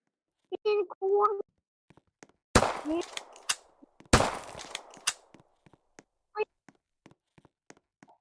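Sharp pistol gunshots in a video game pistol arena crack in two loud bursts with scattered fainter clicks and footsteps between them, while young voices talk briefly.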